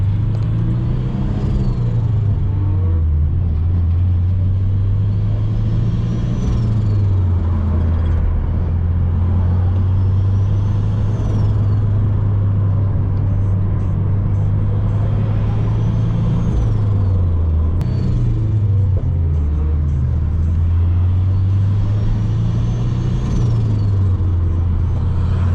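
Subaru BRZ engine rumbling steadily and loud throughout, a deep continuous drone with slight rises and dips in pitch, at a tuning session and car meet.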